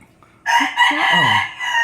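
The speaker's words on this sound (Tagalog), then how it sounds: "Tiktalaok sabi ng manok." A single rooster crow, loud and close, rising abruptly out of near silence and holding for over a second.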